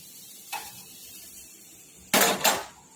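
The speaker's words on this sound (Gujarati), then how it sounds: "અને પહેલાં ચમચીથી મિક્સ કરી લઈશું" A spoon mixes semolina with hot oil for Sindhi dal pakwan dough. It gives a faint quiet scrape, then a few sharp metallic clinks against the bowl, with a louder double clatter near the end.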